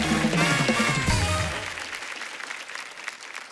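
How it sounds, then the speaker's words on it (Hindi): Studio audience applause on a Hindi comedy talk show featuring Bollywood qawwali singers, a loud burst of clapping mixed with music and a voice at first, then fading into steady, quieter clapping. "जोरदार तालियां हो जाए एक बार इनके लिए।"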